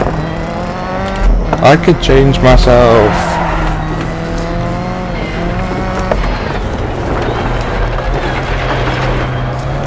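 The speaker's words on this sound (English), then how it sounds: "Press the gas to get the car moving." A rally car in the racing game DiRT 4 pulls away from the start, its engine revving loudly and climbing in pitch with brief tyre squeal, while someone talks over it.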